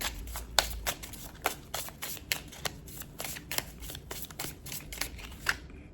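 Lunar Oracle cards being shuffled by hand, a quiet close series of crisp riffling snaps repeating at a steady, quick rhythm with no talking.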